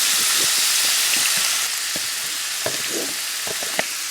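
Marinated tofu pieces fry in hot oil in a pan with a strong, continuous sizzle up close, broken by a few soft clicks and scrapes as they are moved.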